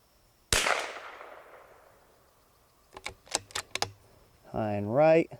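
A single sharp rimfire shot from a Vudoo 360 rifle firing Eley Tenex ammunition cracks out close and loud, then a long decaying echo follows, then a few quick clicks and a brief voice.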